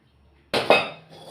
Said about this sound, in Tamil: இப்போ நம்ம முதல்ல கடாய் அடுப்பில் வச்சுக்கலாம்